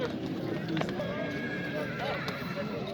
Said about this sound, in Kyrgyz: Улактарда жүргөн ат экен.